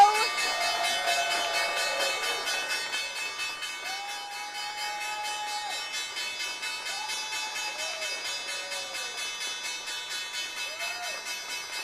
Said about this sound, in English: we are actually going to go to the closing bell?